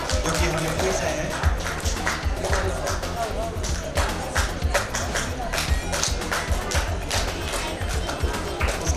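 Crowd applause at a state school chess championship prize ceremony, a dense steady wash of many hands clapping, fairly loud and continuous throughout, with voices mixed in.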